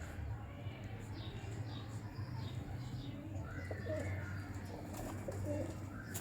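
Pigeons of a Maradona breed coo at low pitch in a steady, continuous background murmur, with a few faint higher chirps from other birds over it.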